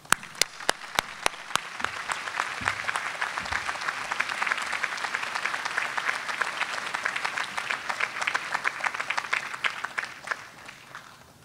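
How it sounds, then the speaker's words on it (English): A large commencement crowd at a college graduation ceremony claps steadily, starting with a few distinct near claps and swelling into a dense, even wash of applause that holds for several seconds before tapering off. "Dr. Bagwell, we thank you and applaud you for all that you have done"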